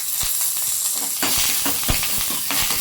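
Curry leaves crackle and sizzle as they drop into hot oil in a tempering pan with mustard seeds, cumin and urad dal. The frying hiss is loud and close, with sharp pops scattered throughout and no talking.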